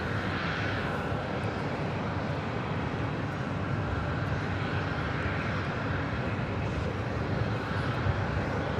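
Airbus A350-900 airliner departing Los Angeles International Airport, a steady broadband engine roar holding at constant loudness throughout, no voices present.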